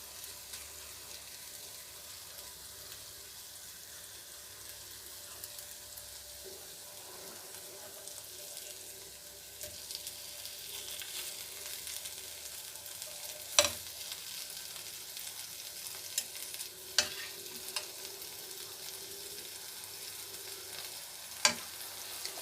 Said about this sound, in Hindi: अब इनके ऊपर थोड़ा सा ऑयल फिर लगाएंगे और इनकी साइडें उल्टा देंगे।